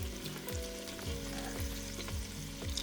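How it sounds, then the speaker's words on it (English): Chopped celery drops into a hot soup pot with minced garlic, a constant loud sizzle overlaid by repeated low, rhythmic thumps and clatter as the pieces land and get stirred. "let me throw in my celery"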